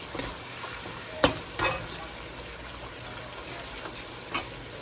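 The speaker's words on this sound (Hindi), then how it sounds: "तो चलें इसको भी भूनते हैं हम।" Spiced masala and yogurt fry in hot ghee for a nefarious-free kofta curry, a steady soft sizzle running beneath a few sharp scrapes of the spoon as it is stirred, close by with no talking.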